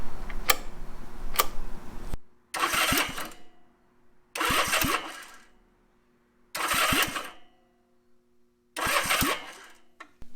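A 1965 Honda CA7 motorcycle engine cranks on the electric starter in four separate bursts of whirring, ticking turnover, each lasting about a second with silent pauses between, and it does not catch; two sharp ticks come first.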